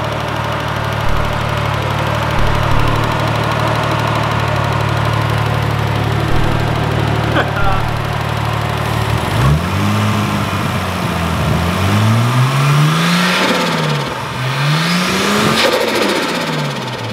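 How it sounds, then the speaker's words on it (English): A rebuilt RB30 engine idles with a steady low drone, then is revved several times, its pitch rising and falling in repeated swells, loud and close. "That's how you put a motor together that came out of a bin."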